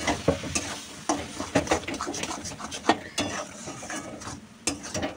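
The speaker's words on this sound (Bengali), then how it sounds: "পুরো ধনে পাতাটা এখন দিয়ে দিলাম। এবার নেড়ে চেড়ে নামিয়ে ফেলবো।" Eggplant bharta being stirred in a pan after coriander leaves go in, with scraping spatula strokes and a soft sizzle, close and steady, with clinks of the utensil against the pan.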